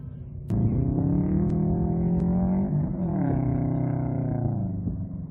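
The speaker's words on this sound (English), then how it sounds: "Car 16 has passed the start line and is now making it through the first turn." A rally car accelerates past at a rallycross race in Arizona, its engine note rising and holding steady with harmonic whine for several seconds, loud and close, with a couple of sharp clicks early on.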